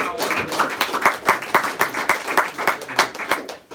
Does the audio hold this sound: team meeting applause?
yes